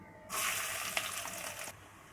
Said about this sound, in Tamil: பொடியாக கட் பண்ண ஆனியனை சேர்த்துக்கிறேன்